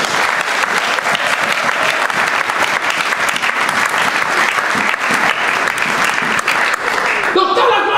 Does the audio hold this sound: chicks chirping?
no